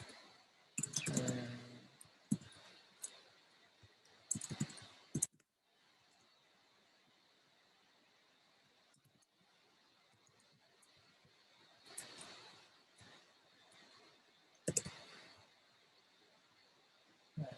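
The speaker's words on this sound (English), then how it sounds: "Sorry for all this typing." Computer keyboard typing during a Django coding session, with bursts of quick clicking keystrokes at the start, around four to five seconds and near twelve to fifteen seconds, separated by quieter gaps.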